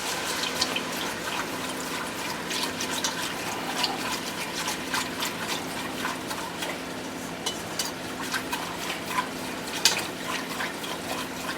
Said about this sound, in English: Add up some milk to this.